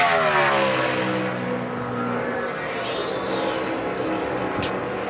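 NASCAR stock car engine on a 2017 qualifying lap, a loud steady roar with harmonic lines sweeping as it exits turn 2, continuous for the whole stretch with talk mixed in over it.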